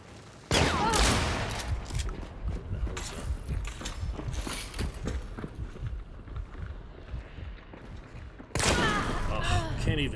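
Bursts of Mosin rifle fire and other gunfire in a video game come in dense, loud volleys, with sharp cracks at the start and near the end and a continuous clattering between them.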